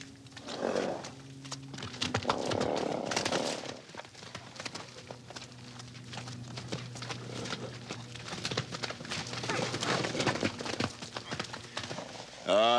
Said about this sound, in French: c'est beau de voir marcher ça, un cheval, je trouve.